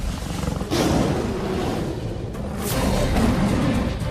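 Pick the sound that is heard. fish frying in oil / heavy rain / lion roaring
lion roaring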